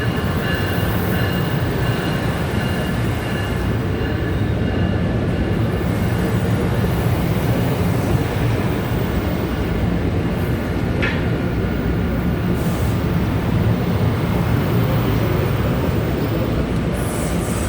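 A PATH train at the World Trade Center Oculus station rumbles steadily for the whole stretch, loud and close, with rail noise, faint wheel squeal and clattering wagons. No one talks.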